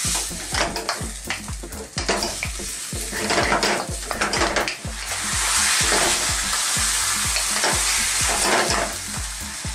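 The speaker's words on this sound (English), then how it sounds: "stir fry this together for another 2 to 3 minutes" Pork stir-frying for sweet and sour pork, sizzling steadily in a hot pan with a splash of water, while a utensil scrapes and clatters against the metal in quick, repeated strokes, close and fairly loud throughout.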